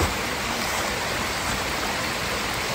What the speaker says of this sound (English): there's too much noise from the waterfall to hear anything else